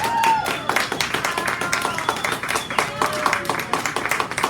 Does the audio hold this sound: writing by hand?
no